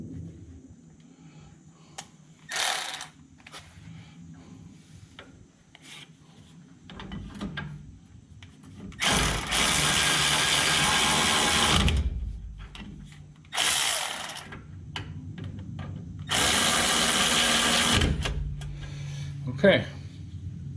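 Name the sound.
power tool tightening F150 rear brake bolts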